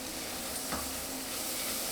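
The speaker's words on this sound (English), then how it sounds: "Now I'm going to stir my veg." Vegetables and shiitake mushrooms cooking in a pan give a soft, steady sizzle, with a single quiet stroke of a spoon stirring them partway through.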